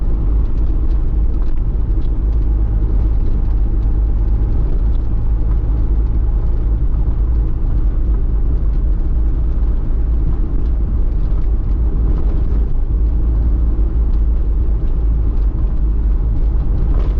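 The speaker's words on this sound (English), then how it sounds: "we're having some bumpy ride right now" A car travels a bumpy road near Rose Hill in Manchester, Jamaica, with a constant, loud low rumble of engine and tyres from inside the cabin and no voices.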